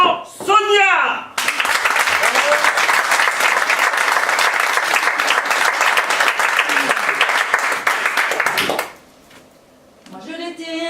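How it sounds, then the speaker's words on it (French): An audience at a live stage show bursts into loud, sustained clapping and applause for about seven seconds, with talk just before it and a voice resuming as the applause fades. "merci d'accueillir sous vos applaudissements Sonia"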